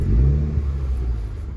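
Petrol 2.0 MINI Hatch John Cooper Works automatic, three-door Euro 6, running after a push-button start: a steady, loud low rumble of the engine heard close up, without speech.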